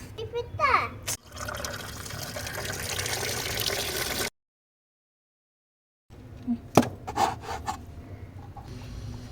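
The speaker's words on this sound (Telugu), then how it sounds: "ఇప్పుడు నీట్గా వాష్ చేసేసుకొని కట్ చేసేద్దాం" Cleaned fish pieces are rubbed and rinsed in water with splashing and scraping, broken by a silent pause midway, while a voice talks at times.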